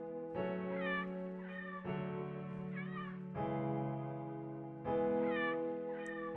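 A cat meows, muffled under a shirt, giving four drawn-out, plaintive cries spaced about a second and a half apart. It is fairly close and faint, with no voices, in a horror audio drama.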